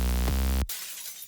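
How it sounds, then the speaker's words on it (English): A glass break sample from a cheap FPC drum set plays as a single sharp shatter with a sustained ringing body that cuts off abruptly, followed by a faint tail of tinkling debris. "Glass breaks."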